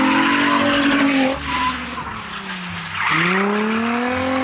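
A Nissan 350Z drifts with its tires squealing, long loud screeches that bend in pitch as the engine rises and falls, with a short spoken word partway through.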